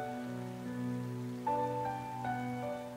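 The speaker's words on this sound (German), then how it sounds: "Jo, es regnet." Rain falls in the video game Oceanhorn as a soft, steady patter under sustained melodic game music.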